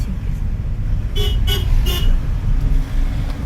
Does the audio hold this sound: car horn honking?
yes